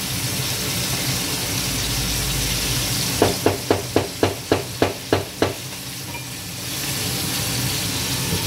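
Fish with sorrel and peanut butter frying in a pan gives a steady, close sizzle throughout, with a run of about nine sharp, evenly spaced taps or spatters in the middle before the hiss settles again.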